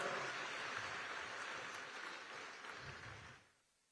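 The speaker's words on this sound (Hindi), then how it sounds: "जोरदार ताली के साथ आप एक बार उनका स्वागत और अभिनंदन कराओ" A large audience at a Lakhpati Didi gathering claps loudly in a sustained round of applause welcoming the chief minister, steady and dense before fading out near the end.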